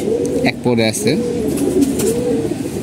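Domestic pigeons coo softly and repeatedly in a loft with young birds, a steady low murmur running throughout while someone speaks over it.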